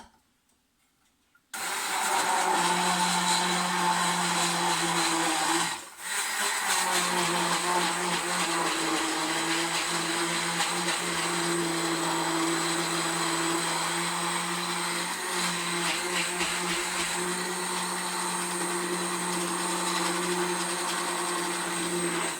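An electric mixer whirs into action after a moment of quiet, blending cassava waffle batter with a loud, steady motor drone that dips once briefly, then runs on evenly.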